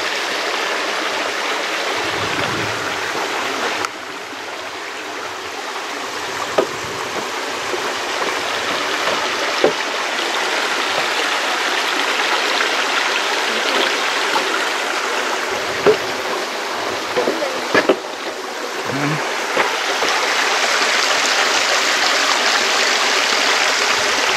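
Steady rushing of a creek spilling over a ledge into a deep waterfall on a Blue Mountains cliff-top walk, a continuous close wash of water with occasional gurgles and splashes.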